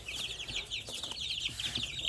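Young chicks kept under chicken wire give off a constant stream of soft, high peeps and clucks. The chirping is fairly quiet and continuous, with no voices.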